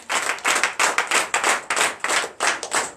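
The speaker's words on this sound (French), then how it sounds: "Donnez de vive acclamation à Seigneur." Congregation at a Sunday church service clapping in acclamation, loud, close rhythmic bursts of handclaps in a steady repeating pattern.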